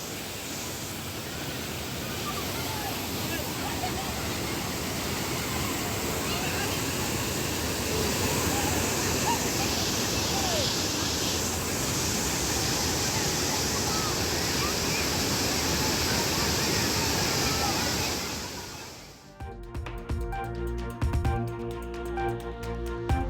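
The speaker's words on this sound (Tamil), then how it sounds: "தொடர் கனமழையினால் நிரம்பி வழியும் காஞ்சிபுரம் தாமல் ஏரி" Surplus water from Thamal lake in Kanchipuram, swollen by continuous heavy rain, pours over in a loud, steady broadband roar that cuts off abruptly near the end, giving way to faint tonal sounds.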